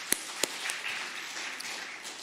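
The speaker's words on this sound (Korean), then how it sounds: "우리 박수 한번 쳐주시면 감사하겠습니다" A church congregation during a Korean worship service applauds: two sharp, close claps open a soft, diffuse patter of clapping across the room.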